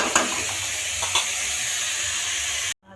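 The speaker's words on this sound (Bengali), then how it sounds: "এদিকে লাউ আলুটা ভেজে নিচ্ছি, গোটা জিরে আর শুকনো লঙ্কা ফোড়ন দিয়ে" Bottle gourd and potato fry in oil tempered with whole cumin and dried chili, a close, steady sizzle with a couple of brief stirring clatters before it cuts off abruptly near the end.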